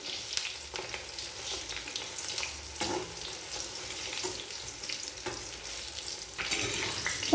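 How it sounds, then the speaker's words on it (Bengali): Chicken pakoras deep fry in hot oil, a steady close sizzle and bubbling broken by scraping clatters as the pieces are stirred and flipped, with no speech. "এরপর নাড়াচাড়া করে উল্টে পাল্টে লাল করে চিকেন পকোড়া ভেজে নেব।"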